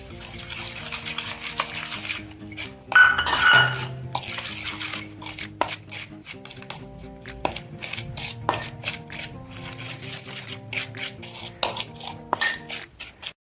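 A spoon stirs milk cream, ground sugar and chickpea flour together in a bowl, giving intermittent scrapes and clinks against the bowl over a soft tonal background, with no talking.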